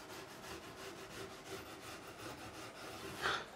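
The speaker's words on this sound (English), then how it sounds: "Just going to finish off with finest grade steel wool." Fine-grade steel wool rubbed back and forth over stainless steel guitar frets, a steady, soft abrasive scrubbing with a slight rhythmic pulse, close and alone throughout.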